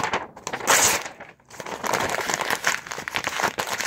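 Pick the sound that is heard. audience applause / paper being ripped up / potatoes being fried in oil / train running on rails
paper being ripped up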